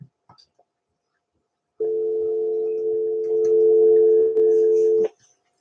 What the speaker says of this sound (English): let me see if I got dial tone or not